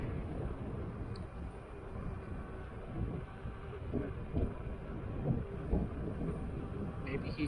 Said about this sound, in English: Feel the wind.